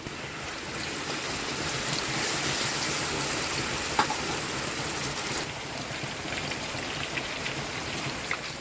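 Paneer pieces fry in hot coconut oil with a steady, dense sizzle and crackle that runs unbroken from start to finish, close and even, with no talking.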